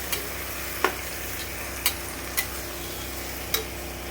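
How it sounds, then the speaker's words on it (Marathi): Rice being stirred into masala in a pan, a low steady sizzle running throughout, with a few sharp spoon scrapes and taps against the pan at irregular intervals, close by and with no voices. "ह्याच्यात राईस टाकून घ्यायचा आणि परत ढवळून घ्यायचा"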